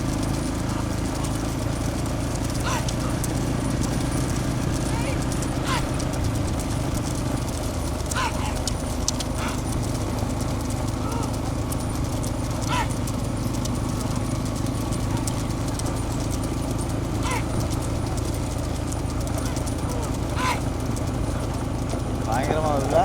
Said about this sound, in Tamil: இதான் குதிரை தாண்டியா, இது ஓடுறது பேர் தான் குதிரை தாண்டா.